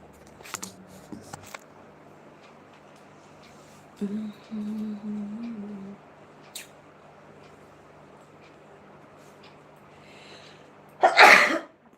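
A sneeze bursts out near the end after a quiet stretch with a few faint coughs and throat sounds from someone with a cold; no talking.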